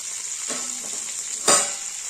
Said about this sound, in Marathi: छान मस्त नरम झालेले आहेत वांगी, छान फ्राय झाले